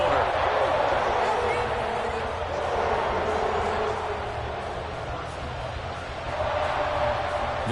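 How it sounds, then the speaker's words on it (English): A football stadium crowd roars in a sustained, loud wall of cheering after a game-tying fourth-quarter touchdown, with a commentator talking over it. "This crowd alive again."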